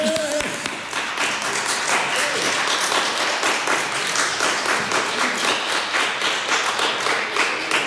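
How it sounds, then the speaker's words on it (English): Applause in Parliament fills the chamber as a dense, steady wash of many hands clapping, close and loud throughout, with some voices mixed in underneath. "thank you for that warm applause"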